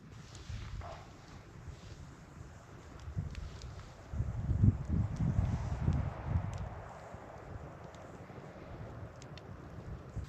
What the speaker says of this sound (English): Obviously you can hear the fire and a little bit of a wind up there.